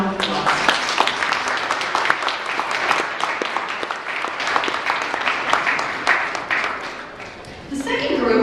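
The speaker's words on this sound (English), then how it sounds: "So let's give them all one more round of applause." Sustained audience applause for a school's students of the quarter, dense and steady clapping from a crowd indoors, fading slightly near the end as a few voices emerge.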